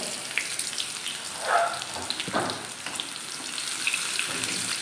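Shallots tossed into hot oil with mustard seeds crackle and sizzle in a steady close frying hiss, with a louder burst as they land.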